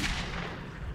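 Gunfire in the video game Metro 2033, one second of dense, loud, continuous blasts filling the whole clip with no gaps and no talk.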